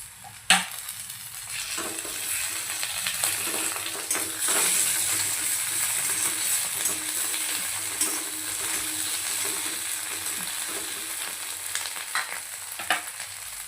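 Onions fry in a pan as green chili chutney goes in for an okra dish, producing a strong steady sizzle with a few sharp clanks and stirring scrapes along the way.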